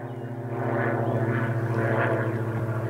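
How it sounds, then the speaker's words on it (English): A propeller aeroplane drones overhead, heard from a fishing spot on a commercial carp lake. Its steady engine hum swells and pulses as it passes, fairly loud, and no one speaks. "There's a few aeroplanes about today."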